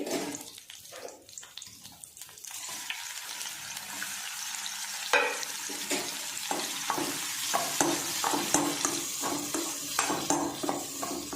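Prawns frying in a pan, a continuous close sizzle with intermittent scraping stirs, building slightly louder in the second half, with no talking.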